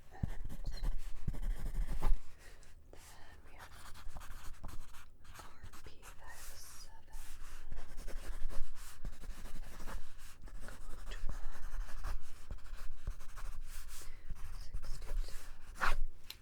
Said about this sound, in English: Let me write some of these down